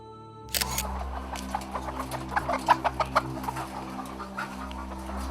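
Chickens cluck in a short run of soft, bouncy calls over a steady low hum, fairly close.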